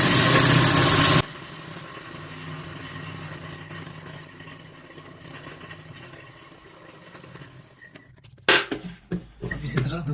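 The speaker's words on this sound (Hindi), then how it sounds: "मैं इसे डबल कर लेता हूँ इस पर सिलाई लगा के, ताकि बाद में मेरा लेस भी ना उखड़े।" A sewing machine stitches a doubled seam to secure lace along the leg hem of a gharara dress, running loud and steady at first, then settling into a quieter continuous hum before some closer handling noises near the end.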